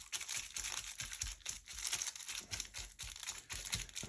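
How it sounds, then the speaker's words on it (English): A piece of cellophane is crinkled and scrunched by hand in quick repeated bursts of crackling, close and fairly soft. "let's just see what a bit of cellophane might do"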